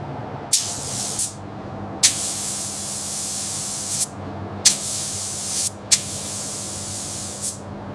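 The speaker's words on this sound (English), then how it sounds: "The spray gun moves with smooth, overlapping passes, laying down the first film layer evenly." A spray gun hisses in long steady bursts, laying paint on a primed car fender of a 1967 Shelby GT500, starting and stopping about five times with brief pauses between, loud and close.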